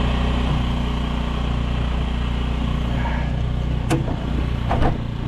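A Honda Metropolitan scooter engine runs at a steady low idle up close, a continuous droning putter with a couple of faint clicks near the end.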